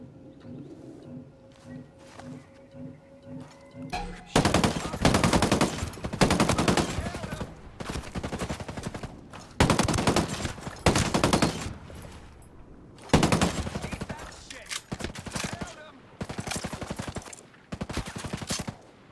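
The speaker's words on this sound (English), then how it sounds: "Light machine gun is extremely slow to reload." Light machine gun fire in Ghost Recon Breakpoint, several long, loud automatic bursts separated by short pauses, each a dense rattle of shots following a quieter stretch at the start.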